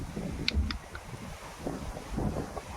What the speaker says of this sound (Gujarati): અત્યારે પવન બહુ નીકળ્યો હોય